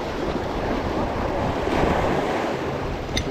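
Water washes and splashes against the rocks of the Port Aransas jetties on the Texas coast, a continuous surf-like hiss mixed with wind noise.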